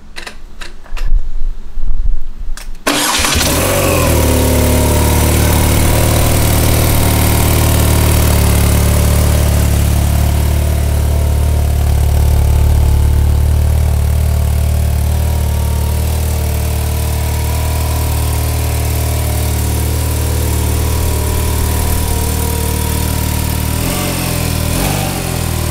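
A BMW R 12 S motorcycle engine fires up after a brief starter crank, then settles into a steady, loud, close idle that holds for more than twenty seconds with no talking.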